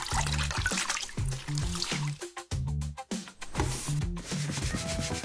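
A wet cloth scrubs at a marker stain, making repeated rubbing, squishing strokes with brief pauses and a faint watery trickle, close and fairly soft.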